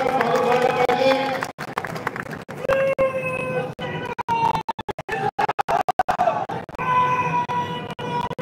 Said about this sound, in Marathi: जरा जोरदार टाळ्या वाजवा आपण त्यांचं स्वागत करूया।